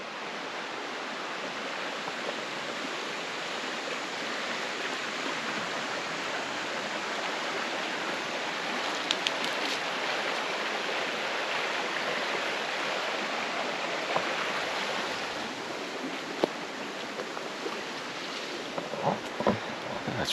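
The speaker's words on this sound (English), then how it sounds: "Right here next to this little creek." A small creek flows steadily beside a campground in Cherokee National Forest, a close, continuous broadband rush of running water with occasional brief splashes and no talking.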